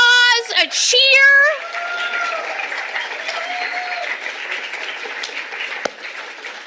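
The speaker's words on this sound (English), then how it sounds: "Let's give ourselves a round of applause, a cheer." Applause and cheering from a college convocation audience, starting after a brief voice and holding steady as a dense broadband clatter with some higher shouts mixed in.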